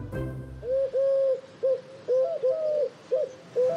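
A soft, hollow hooting bird call played from a phone app repeats in short phrases, clear and fairly close, after a brief burst of noise at the start.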